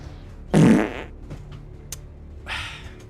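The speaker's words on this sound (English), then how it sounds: "Every time Adam uses a fart noise when a question's on, I deduct a point, effective immediately." A loud, spluttering fart noise sound effect bursts out once during a live quiz, followed by a quieter, shorter second blast about two seconds later.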